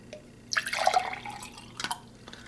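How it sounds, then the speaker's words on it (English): Water poured from a measuring cup into a tall thin glass, a short burst of splashing and trickling that fades, followed by a couple of faint drips, close and quiet. "Got a nice tall thin glass over here."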